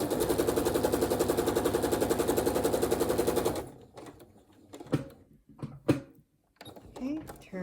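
A sewing machine chain-pieces quilt fabric in a fast, even run of rapid mechanical stitching taps that stops abruptly, followed by quiet fabric handling and a few clicks with a voice talking.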